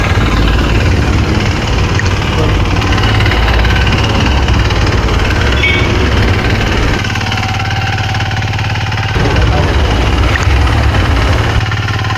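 A farm vehicle engine pulling an implement through a field, a loud steady mid-pitched drone with shifting rumble and vibration, close by, with no talk over it.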